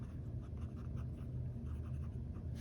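A fine-nibbed fountain pen scratches softly across paper in continuous looping figure-eight swirls, a faint, close, steady rasp with no talk.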